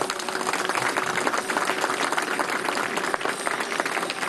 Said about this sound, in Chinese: 好，我们再一次用热烈的掌声哦， 来欢迎所有的参赛队伍。